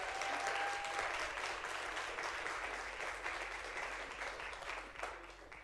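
An audience applauds at a school board meeting, sustained clapping from a crowd indoors that holds steady and then slowly fades.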